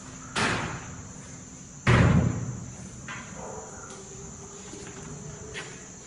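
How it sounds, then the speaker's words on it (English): A door slams hard twice, the second bang louder and followed by a rattling tail, over a steady high insect-like chirring background. "That door was getting slammed."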